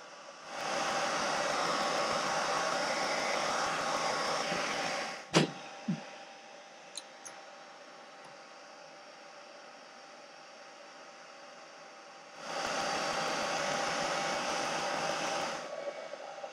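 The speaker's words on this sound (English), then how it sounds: "borrowed the hairdryer." A hair dryer blows hot air onto a paramotor clutch part to loosen its Loctite, a steady loud broadband whoosh that runs for about five seconds, stops with a few clicks, then starts again near the end.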